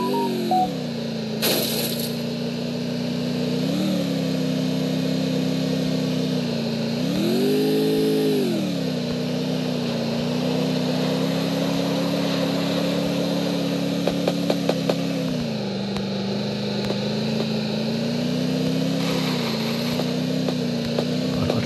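Motorbike engine in the video game Free Fire, a steady mid-pitched drone that rises in several revving swells and dips over twenty seconds, with brief metallic clinks and no speech.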